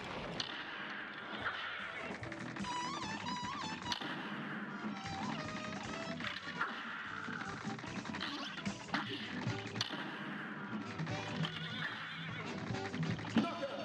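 A horse from the Cuphead video game neighs and whinnies over busy game music and effects, with repeated calls under a dense, steady mix.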